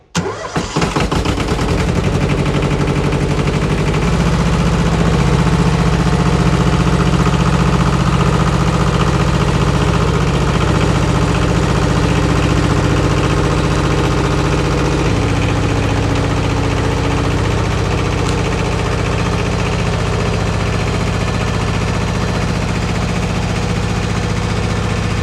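A Yanmar tractor engine that has just been rebuilt starts and then runs steadily, loud and close, with a constant throbbing idle that continues for the rest of the clip.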